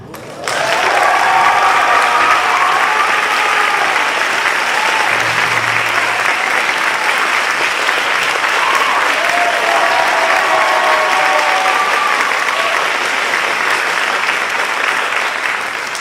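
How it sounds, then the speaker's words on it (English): Loud, sustained applause from a high school fall orchestra concert audience greeting a newly married woman, dense even clapping running steadily for the whole stretch after a sudden start. "we need a special introduction and applause for the newly married Mrs. Chibia Ulinwa"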